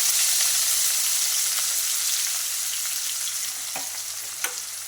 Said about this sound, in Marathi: हिरवा कांदा आम्ही छान धुवून घेतलेला आहे, तर तो पण आता आपण सोडून देऊया